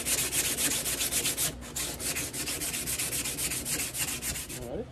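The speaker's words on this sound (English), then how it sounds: "then we'll sand it up, smooth it up," Sandpaper rubs back and forth over a wooden axe handle being fitted to a forged axe head, making quick, rhythmic, close scratching strokes throughout.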